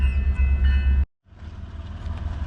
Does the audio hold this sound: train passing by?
yes